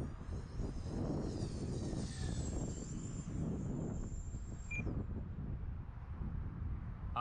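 An electric ducted fan RC jet makes a full-throttle pass into the wind: a high, sustained fan whine sweeps past over rushing wind noise, then drops away abruptly after a few seconds.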